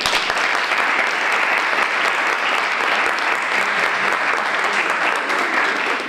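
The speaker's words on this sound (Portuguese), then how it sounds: "Uma salva de palmas para os nossos youtubers João Sousa, Caitlin, Sara Marques e Miguel V" Sustained, loud applause from a large audience at a school event, steady dense clapping filling the whole stretch without letup.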